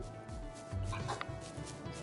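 A dog in a first-person video game gives a few short barks and yips over steady game background sound, close and moderately loud.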